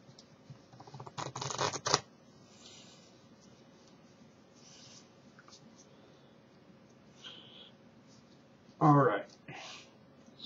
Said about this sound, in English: Hindu shuffle.